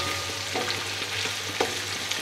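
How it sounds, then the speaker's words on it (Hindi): Shinwari chicken karahi fries in a pan with a continuous close sizzle, joined by a few soft scrapes and taps of stirring and a low steady hum underneath, no talking. "इस तरह से आपने 5 मिनट तक इसे भूनना है"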